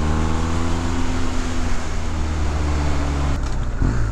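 A 2019 BMW R1250R Sport motorcycle accelerates hard, its engine note climbing steadily in pitch with strong rising harmonics before a shift near the end, loud and close.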